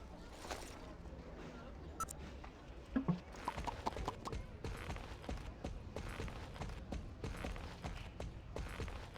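Horse hooves clip-clop steadily in the Springdale mobile game, a brisk rhythmic beat of hoofsteps running the whole time over a busy background of game ambience and music.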